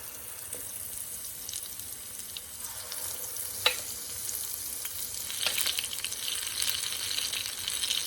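A batch of vegetarian pakora sizzles steadily in hot oil, with a brief sharp clink partway through and the bubbling growing denser toward the end.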